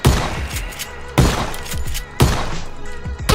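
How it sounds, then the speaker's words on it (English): Heavy gunshots boom out in PUBG Battlegrounds, three loud impacts spaced about a second apart, each followed by a trailing rumble and clatter. "We're taking shots"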